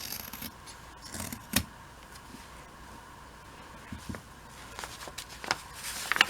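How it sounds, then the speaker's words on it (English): Scissors snip away the fabric folds of a handmade bird suit, a few crisp, close cuts spread over quiet rustling of the material. "mostly all I need to do is cut off the folds."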